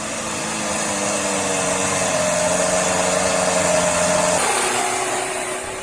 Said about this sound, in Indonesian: Satu persatu off-road dengan kemampuan skill dan performa mesin mobil yang tangguh sanggup melewati tanjakan